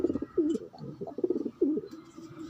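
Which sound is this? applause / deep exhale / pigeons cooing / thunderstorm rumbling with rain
pigeons cooing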